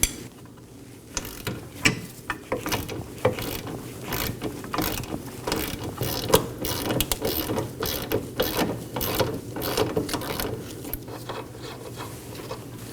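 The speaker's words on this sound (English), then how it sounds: "I'll be using a ratchet on the nut side and a wrench on the bolt side." Ratchet loosening a 15 mm sway bar end link nut on a 2018-2024 Chevrolet Equinox 1.5L, a close, steady run of rapid mechanical clicking from the pawl, repeated in short bursts with brief pauses, no talking.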